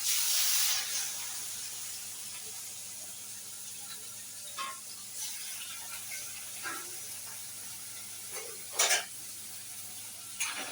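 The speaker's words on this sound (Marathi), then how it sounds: "आता त्याच्यामध्ये चिकन टाकून देतो आता" Chicken pieces fry in a hot kadhai at home, giving a soft, steady sizzle and hiss with a few light clinks and stirs, fairly quiet and alone.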